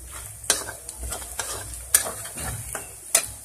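Onions frying in a pan for a village-style fish curry, a continuous sizzle under repeated scraping stirs, with three sharp metallic clacks of the spoon against the pan, close and unaccompanied by talk.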